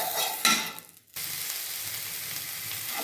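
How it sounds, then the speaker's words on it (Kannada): Green chillies frying in a pan give a steady, moderately loud sizzle, broken by a brief quiet gap, then a continuous crackle resumes with occasional stirring scrapes. "ನೋಡಿ ಈಗ ಮೆಣಸಿಕಾಯಿ ಫಸ್ಟ್ ಹುರಿತಾ ಇದ್ದೀನಿ"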